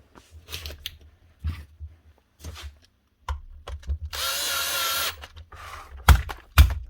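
A power tool whirs in one steady burst of about a second while screws are tightened on a Paslode IM350+ nail gun during servicing, with sharp clicks and handling knocks around it.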